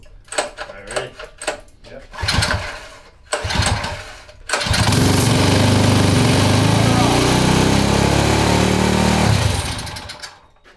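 A lawn mower engine fitted to a street bike, started for the first time with the choke on: several short pull-start bursts, then the engine catches and runs at a loud steady roar for about five seconds before dying away, with people talking over it.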